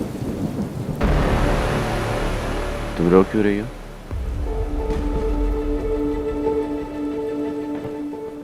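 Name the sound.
rain falling with thunder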